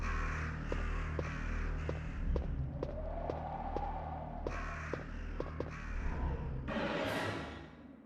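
Crows caw repeatedly in the video game Resident Evil Director's Cut, a series of harsh calls in short bursts over a low steady hum, with a rising swoosh near the end.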